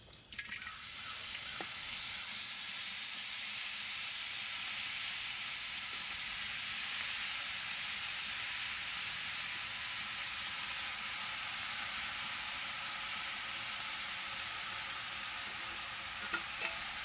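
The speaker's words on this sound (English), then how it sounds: "the fat has rendered down even more, and we're getting some more liquid" Animal fat rendering into tallow in a kettle over an open fire for candle making, a steady soft hiss and sizzle with faint crackles and bubbling, continuous and fairly quiet with no talk.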